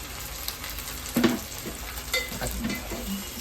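Coconut paste and tomatoes fry in a pan for an Agri-Koli-style vegetable curry, giving a steady soft sizzle with a few brief stirring scrapes, close and moderate in loudness.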